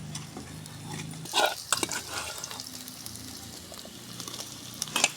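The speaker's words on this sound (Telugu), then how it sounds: "పచ్చిరీలు అయితే వేసుకుంటున్నానండి కొంచెంసేపు అయితే బాగా మగ్గనిద్దాము" Small raw prawns being stirred into softened onions and ginger paste in a pan, with a steady low sizzle broken by scraping spoon clatter, close and fairly quiet, alone without talk.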